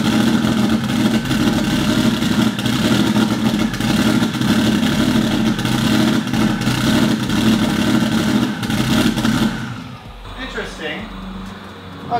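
A turbocharged EG33 flat-six in a Subaru WRX STI runs loud and close at a steady rumbling idle for about ten seconds, then the engine cuts off and quieter mechanical ticks remain.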